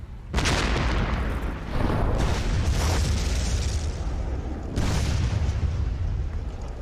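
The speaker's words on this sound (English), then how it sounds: "The defenders blow the bridge." Explosives blow up a bridge to stop tanks crossing in a battle in Vietnam, heard as a series of loud, close booming blasts with rumbling debris, with no talk.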